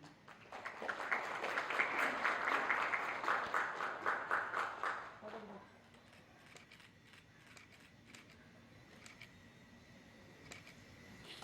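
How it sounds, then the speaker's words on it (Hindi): Applause opening a World Health Day yoga event at Raj Bhavan after a lamp-lighting, a crowd clapping steadily for about five seconds before fading into quiet room tone. "जोरदार तालियों से इस कार्यक्रम की शुरुआत करते हुए"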